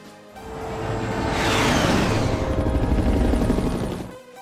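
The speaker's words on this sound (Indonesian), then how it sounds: "helikopter DIE telah melintasi Suriname" A helicopter flies over Suriname, its whirring, rumbling roar rising from quiet to a loud peak and fading away over about four seconds.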